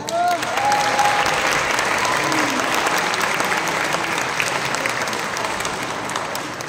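An audience applauds the winners of a singing contest with sustained, dense clapping that fills the whole stretch at a steady, loud level.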